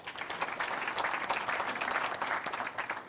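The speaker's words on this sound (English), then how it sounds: "And even better just to get one round of applause for everyone." A conference audience at a business leaders' Q&A event gives a round of applause, a dense and even wash of clapping that stays fairly quiet and distant from start to end.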